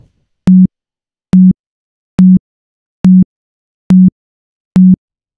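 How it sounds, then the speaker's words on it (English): Six short, evenly spaced bursts of a steady pure test tone, loud and clean, each lasting a fraction of a second with silence between. "we have this sine wave"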